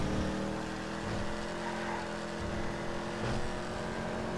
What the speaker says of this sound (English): This car just sounds amazing.